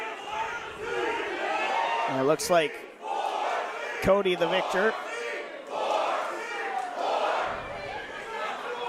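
Wrestling crowd roaring steadily throughout a West Coast Pro tag team championship match, with dense cheering and chanting under a loud commentator's voice talking over it.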